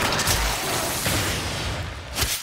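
A Sepfahn Nikana Zaw melee combo in a video game, fought against level 125 heavy gunner enemies, comes through as a loud rapid string of booming, burst-like impacts over a constant rumbling game background.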